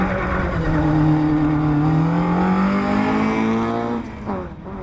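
A Nissan Micra rally car powers along a wet former-airfield stage at Bishopscourt. Its engine climbs loudly and steadily through the revs, then drops off suddenly as it shifts or lifts near the end.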